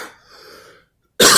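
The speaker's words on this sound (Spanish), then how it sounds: "Con la tos que tengo." A person with a persistent cough lets out one loud, harsh cough near the end, close to the microphone, after a faint breathy stretch and a moment of near silence.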